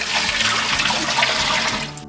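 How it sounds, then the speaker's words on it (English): Water gushes loudly and steadily into a large pot of about 12 quarts being filled to brine a chicken, a close, continuous rushing pour with no talk over it. "Adding a little water."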